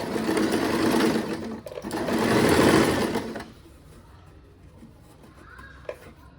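A sewing machine stitching the side opening of a churidar, running loud and close in two steady bursts before stopping, followed by quiet handling of fabric.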